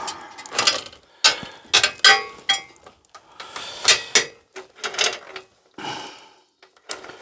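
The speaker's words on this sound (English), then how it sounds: "Right, we've got our chain through there, over the rear sprocket, and we're around the front axle." Drive chain of a vintage mini tractor being fed over the rear sprocket and around the front axle, giving a run of metallic clattering, clinking link rattles in irregular bursts, close and fairly loud, with no speech.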